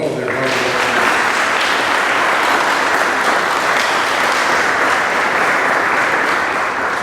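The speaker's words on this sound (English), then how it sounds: "Please join me in giving them a round of applause for all of their hard work." Loud, sustained audience applause for National Honor Society students, dense steady clapping filling the room without pause from start to finish.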